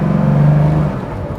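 Loud Rico Customs backdate car engine while driving, a raw, deep steady drone that holds strong then eases slightly toward the end, close and alone with no talk.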